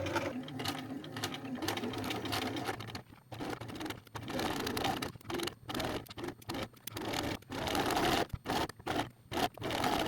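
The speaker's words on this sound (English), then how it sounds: "I'm gonna sew around the edges" A sewing machine stitches around the edges of bed sheet fabric in quiet bursts, its rapid mechanical whir starting and stopping with short pauses between runs, close and soft.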